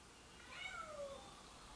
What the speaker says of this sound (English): my new cat is meowing at the door